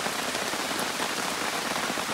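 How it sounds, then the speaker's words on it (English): Steady rain falls in a Virginia forest, a dense continuous patter of drops hitting leaves and ground, even and fairly loud throughout with no voices. "we got a little bit of rain coming in here"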